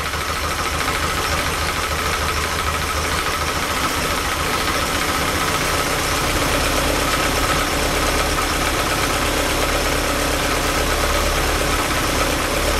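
A Lotus Elan engine idles steadily during carburettor tuning with an airflow meter held in the intake trumpets, a continuous close, even mechanical hum and thrum with no speech over it.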